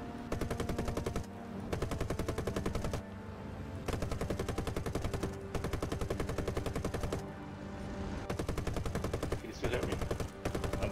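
Machine gun fire from a tail gunner in the aerial combat game War Thunder rattles in long rapid bursts separated by short pauses, loud and dense throughout, with no speech.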